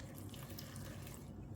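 Water is poured into a mixer-grinder jar of bottle gourd for grinding into a paste. A close, soft, continuous splashing trickle lasts a moment, with no voices.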